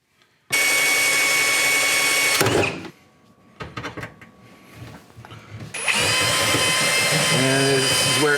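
A drill spins a stepper bit through a hole for reverse osmosis system fittings, two loud sustained whining runs separated by a quieter stretch with a person speaking briefly in between.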